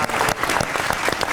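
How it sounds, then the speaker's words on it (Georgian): An audience on a Georgian comedy show bursts into applause, loud dense clapping with sharp individual claps standing out, brief and continuous. "თუ კი აპლოდისმენტები მაროს"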